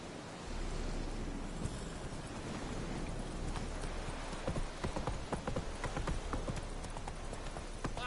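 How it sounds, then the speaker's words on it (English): Horse hooves clip-clopping in The Witcher 3, a steady trotting rhythm over a soft, noisy background hiss, growing more distinct in the second half with no speech over it. "Oh, whoa there, Roach. Hey-ya"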